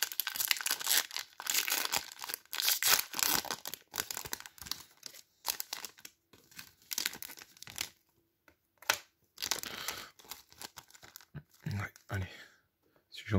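A Pokémon XY booster pack wrapper being torn open, with crinkling and tearing foil crackles in bursts separated by short pauses, close and crisp, while a person talks.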